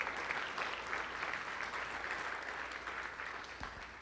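A church congregation claps together in praise during a Spanish-language service, a dense and even wash of applause that holds steady for several seconds, heard from across the room and fairly soft, then fades slightly at the end.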